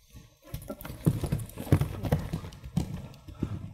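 Horse trotting in an arena during a riding clinic, a quick rhythmic clip-clop of hooves, fairly close and continuous with no talk.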